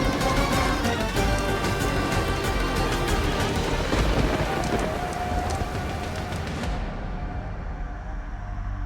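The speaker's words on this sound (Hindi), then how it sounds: "अब ये बरसात नहीं थमने वाली" Heavy rain pours steadily with thunder rumbling low beneath it, a dense continuous wash that thins toward the end.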